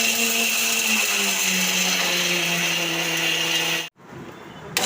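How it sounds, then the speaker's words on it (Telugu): An electric mixer grinder whirs steadily for about four seconds as it dry-grinds roasted lentils, garlic, chili and salt into a fine powder, then cuts off abruptly, leaving a brief quiet tail. "ఇవన్నీ పొడి మిక్సీ వేస్తున్నాను. ఇదంతా ఫైన్ పౌడర్ చేద్దాం."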